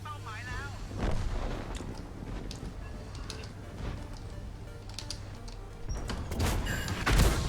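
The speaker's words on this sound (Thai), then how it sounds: "ยิงแล้วยิงแล้ว" Tank cannon shots in the World of Tanks video game, a few booming blasts and sharp cracks over constant engine drone and battle noise, with someone talking faintly in between.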